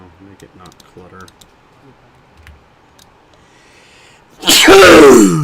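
A single loud sneeze bursts out near the end, close and sudden, after quiet stretches of brief talk and faint keyboard typing and clicking during a World of Warcraft hardcore stream.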